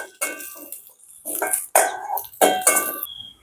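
Curry leaves are sautéed in a pan for a prawn dish, with several close, loud bursts of a spoon scraping and clinking against the metal pan over a soft frying hiss.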